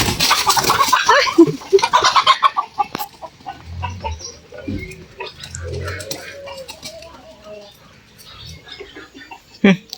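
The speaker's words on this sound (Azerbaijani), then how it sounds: "toyuqlarımızı buraxaq" Chickens cluck and squawk after being let out of a village coop, loud at first with a burst of activity, then thinning into scattered clucks and rustling, with a person speaking now and then.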